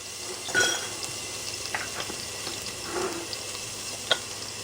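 Minced garlic fries in bacon grease in a pot for beer cheese soup, a soft continuous sizzle under a few sharp clinks and scrapes of a utensil against the pan, close and without voices.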